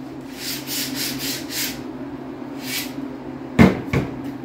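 Hardline tubing pulled through a tubing straightener, giving a few soft rubbing swishes followed by two sharp, louder knocks close by, with no voices.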